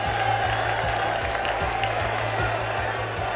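A packed stadium crowd of almost 92,000 fans at a 1989 State of Origin football match between Victoria and South Australia roars and applauds in a dense, continuous wash of cheering, with a commentator's voice faintly under the noise.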